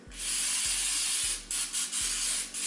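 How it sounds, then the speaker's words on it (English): Cooking spray hisses onto an air fryer basket in short, close, steady bursts, a continuous airy spritz broken by brief pauses, over a low rhythmic mechanical thump. "give this a little quick spray, a little light spray"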